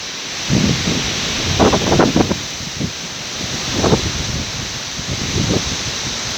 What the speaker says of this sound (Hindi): बहुत ज़्यादा तूफ़ान आ रहा, चल रही है, तेज़ हवाएं चल रही है।